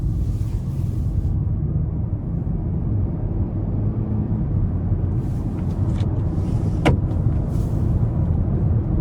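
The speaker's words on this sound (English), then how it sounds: "take this Altima SL out on the road for a quick test drive" A 2021 Nissan Altima 2.5 SL with a four-cylinder engine and CVT driving on a road, heard as a steady, low cabin rumble of engine and road noise.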